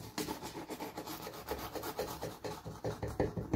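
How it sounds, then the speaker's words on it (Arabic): Close, rhythmic rasping strokes of a serrated knife sawing back and forth through a crisp, freshly baked cheese pie of spongy dough, with no voices. "بدي اقطعها بسكينة منشار"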